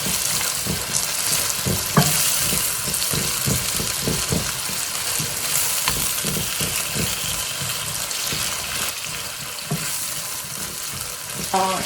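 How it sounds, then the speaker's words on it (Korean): Onions stir-fried in a pan for jajangmyeon black bean noodles, with a continuous loud sizzle and regular rhythmic scraping and tossing strokes close by, and no talking. "여기에다가 양파를 좀 넣을게요. 양파 넣어주고요. 볶아주세요."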